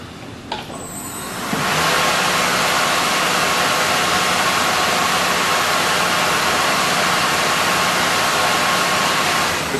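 A tire changer machine breaking the bead of an agricultural tire on a rusty rim, heard as a sudden loud, steady hissing, roaring mechanical noise that rises after a brief click and holds continuously, close by, with no talking.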